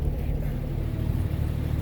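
A hydraulic PTO-driven hoist on a 1948 Chevy truck raises the bed, a steady low mechanical drone with engine rumble that holds even and loud throughout, with no voices.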